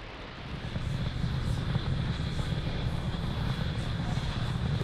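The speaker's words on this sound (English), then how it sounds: "Ignition. And liftoff." Rocket engine roar at liftoff of the Danuri lunar orbiter from South Korea, a steady, dense, low rumbling roar heard from a distance, sustained without break throughout.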